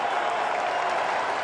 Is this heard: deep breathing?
no